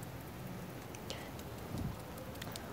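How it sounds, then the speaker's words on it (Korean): Rain falls outdoors as a soft, steady hiss of fine noise, with a few scattered light ticks and taps over the top and no one speaking. "아 지금 비가 와가지고 추워지기 시작했네요"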